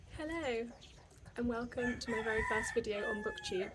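A rooster in Bali crows in the background, its drawn-out call rising and falling while someone speaks steadily over it at close range.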